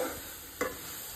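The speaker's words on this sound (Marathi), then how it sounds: "रवो तुपान 2 मिनटांनी हांव कणगां वांगडा परतून घेता" Semolina and sweet potato roasting in ghee in a pan, a low steady sizzle with one short scraping stir midway, close and quiet, with no voices.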